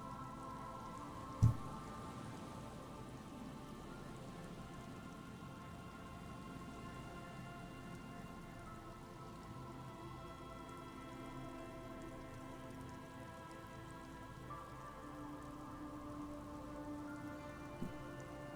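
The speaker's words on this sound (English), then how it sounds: "The reeds by the abandoned campsite hiss and shake in the lazily falling rain" Soft, steady rain falls around reeds by an abandoned campsite in the video game Disco Elysium, a faint continuous hiss with a low tonal ambient bed and one brief knock early on.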